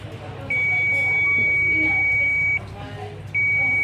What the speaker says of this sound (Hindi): देख सकते हो VCC मेन लाइन में बीप बजर की आवाज़ आ रही है।